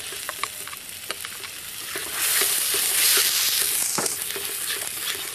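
Chilli and ginger paste with browned, pureed fried onions cooking in a pan for an Amritsar curry, a steady sizzle that swells louder partway through, with light scraping clicks of stirring.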